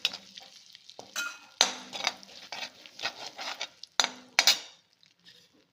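Whole spices (cinnamon, cloves and cardamom) fry in melted butter in a pan, with a soft sizzle under repeated scraping strokes of a spoon and occasional metallic clinks against the pan, close and without any talking.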